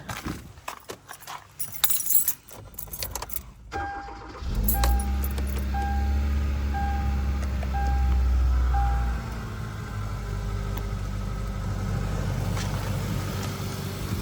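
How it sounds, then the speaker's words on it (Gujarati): Keys rattle and clatter, then a car engine cranks and turns over, settling into a steady low idle hum. "ગાડી ચાલુ કરી દઈએ"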